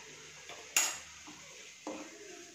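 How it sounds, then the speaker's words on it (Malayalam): Masala for an egg curry is stirred in a metal pan, giving a few sharp utensil clinks and soft scrapes against the pan, close and quiet, with no talk. "അതുവരത്തേക്ക് ഒന്ന് നന്നായിട്ട് ഇളക്കി കൊടുക്കാം"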